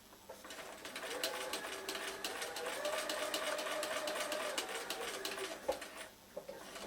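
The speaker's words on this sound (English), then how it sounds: "I'm just going to stitch around near the very edge of the red square" Sewing machine stitching around the edge of a red fabric square on a Christmas card hanger, a steady close whir of rapid needle strokes that slows and stops near the end.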